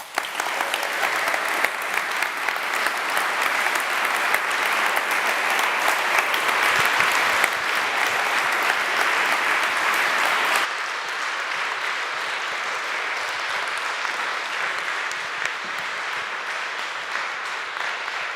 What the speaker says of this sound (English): That was your huge applause.